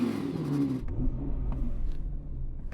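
A deep Audi R8 V10 engine rumbles and revs with a rising and falling note, then settles into a low, steady idle nearby.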